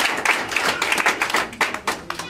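Congregation clapping in a church, a quick uneven patter of many hands close by, lasting a couple of seconds with a voice faintly under it.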